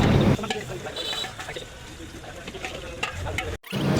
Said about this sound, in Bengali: প্রথমে আমরা বেগুন ভাজি করে নিচ্ছি